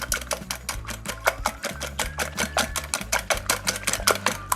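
Eggs whisked with a metal whisk in a bowl for an omelette in a home kitchen, a fast steady run of close, bright clicking strokes over a low rumble.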